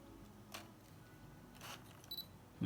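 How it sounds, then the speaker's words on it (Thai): Soft mechanical camera clicks, then a brief, faint high-pitched electronic beep as the focus locks with the shutter button half-pressed. No one speaks. "กดครึ่งหนึ่งโฟกัสได้ยินเสียงติ๊ก"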